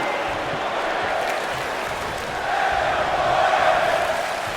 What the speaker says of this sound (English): Crowd sold out here, completely behind Daniel Bryan